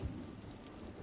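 Steady rain hiss with a low thunder rumble at the start plays faintly in a city-building game, a soft continuous wash with no voices over it.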